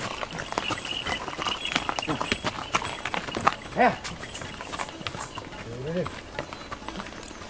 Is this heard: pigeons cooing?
no